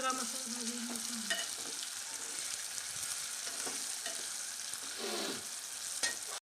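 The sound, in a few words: roasting spice masala with tomato in a pan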